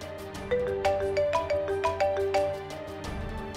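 A landline telephone rings after being dialed, sounding as a repeating electronic melodic tone pattern of short, evenly paced notes, steady and clear with no voices over it.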